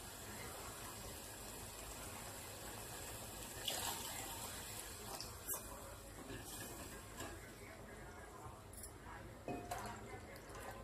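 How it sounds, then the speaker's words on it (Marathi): Water poured into frying masala in a pan while making Marathi egg curry: a steady, close splashing and gurgling pour over a broad, hissy background, with a few sharper splash bursts. "आपल्याला जेवढं पाहिजे तेवढं पाणी टाकायचं।"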